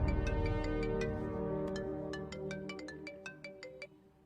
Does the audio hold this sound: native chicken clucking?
no